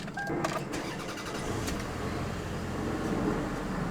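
A used car's engine cranks and catches with a brief burst, then settles into a quiet, steady idle rumble that continues alone.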